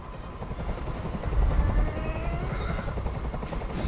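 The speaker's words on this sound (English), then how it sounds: "I can't stand that noise anymore. Tell that helicopter to get out of here." A helicopter's steady rotor chop in the video game Detroit: Become Human throbs continuously, loud and close, with a droning engine whine beneath it.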